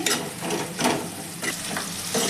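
Onions fry in a pan for a Punjabi pumpkin dish, a close steady sizzle broken by several scraping stirs of a spatula against the metal, with no talking.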